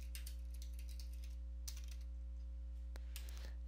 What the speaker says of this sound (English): we're going to type in Group Policy